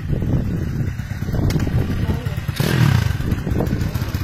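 A four-stroke dirt bike engine runs close by, a loud steady rumble with brief clattering bursts and rising revs, while people talk over it.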